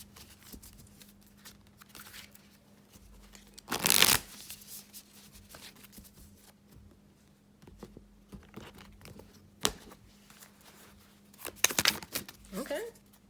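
Close, soft riffling of a deck of goddess oracle cards, with brief bursts of shuffling that stand out against a low hum, plus quiet handling sounds and murmured speech.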